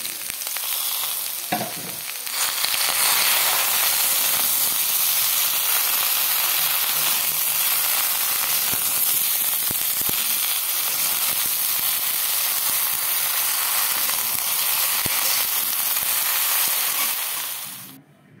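Eggplant tipped into hot oil with frying potatoes bursts into a loud, dense sizzle that holds steady and close for many seconds, with faint stirring clatter, before dying away at the end.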